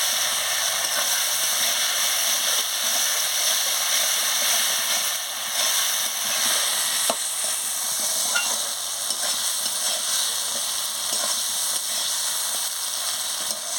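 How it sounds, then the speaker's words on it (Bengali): Raw banana and potato chunks are stir-fried with spice paste in a pan, a loud, continuous sizzle with occasional scraping knocks of the spatula throughout. "এবারে কাঁচকলা আলুটা দিয়ে দিচ্ছি দিয়ে মশলার সঙ্গে ভালো করে কষিয়ে নিচ্ছি"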